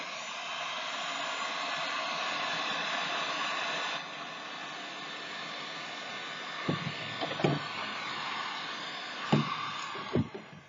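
A heat tool blowing hot air onto a plastic Halloween decoration, a loud steady whooshing roar that drops slightly partway, with a few knocks and handling clicks near the end.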